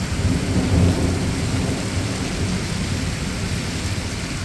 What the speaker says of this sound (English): Thunder, heavy rain, and whipping wind hit Hackensack.